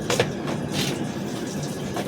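A long-distance passenger train from Howrah to Jammu Tawi pulls away again after a brief halt at Alawalpur Junction, giving a steady rolling rumble with a few soft clanks early on.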